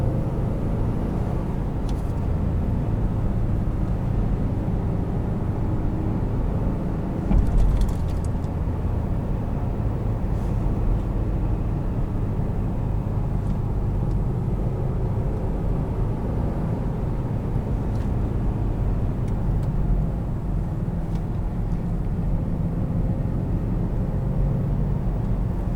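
A 2016 Ram 1500 Express pickup on mud terrain tires drives along bumpy back roads, its engine and road rumble a steady, loud low drone throughout with a brief thump partway through.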